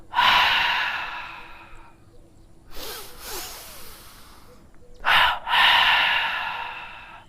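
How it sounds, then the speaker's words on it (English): Guided breathing exercise with short and long inhalations and exhalations: loud, close breath sounds in distinct bursts, a long exhale, a pause with quieter breathing, then a sharp short breath followed by another long audible exhale. "So first short inhalation, then long, then short exhalation"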